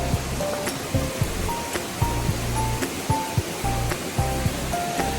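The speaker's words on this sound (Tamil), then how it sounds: "இது பிரம்மாண்ட ஃபால்ஸ்" Mankayam waterfall in the Braemore hills of Kerala, a huge fall swollen by floodwater: a steady, loud roar of rushing water, with some faint intermittent tones and knocks over it.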